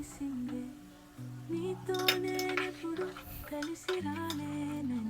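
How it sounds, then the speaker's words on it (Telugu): A spoon clinks and scrapes against a pan while baby corn tomato curry is stirred, with a few bright metallic taps over a steady tonal background. "బాగా కలుపుకోవాలి"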